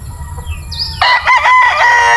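A lansonis rooster crows loudly and close by in a single long, strained cock-a-doodle-doo that rises and then holds. Softer background bird calls come before it.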